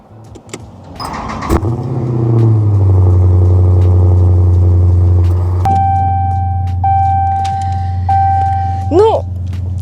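A Dodge Challenger's engine cranks and catches, then settles into a deep, steady rumbling idle; a high electronic tone beeps briefly near the end.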